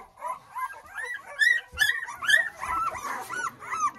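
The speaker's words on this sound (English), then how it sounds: "I'm in here with these puppies. I've been wiping them down, so they're kind of noisy." Several puppies being wiped down indoors whimper, yip and bark in short bursts, loud, close and overlapping throughout, with no clear talking over them.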